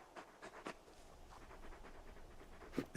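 Torgal, a large dog in the video game Final Fantasy XVI, pants softly in short, quick breathy bursts, faint and close, with a few louder puffs near the end.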